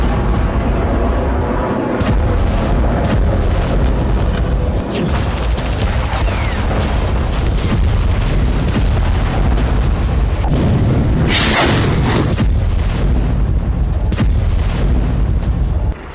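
Dense, continuous roar of heavy bombardment explosions in Gaza, loud booms and rumbling blasts piling on one another without pause for the whole stretch.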